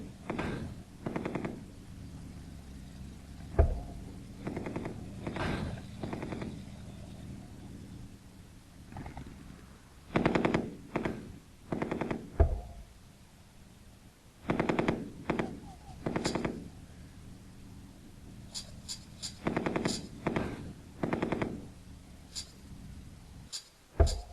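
Machine gun fire from the war game Panzer Command: Ostfront comes in repeated rattling bursts of varying length, mixed with heavier booming impacts and quieter gaps between volleys.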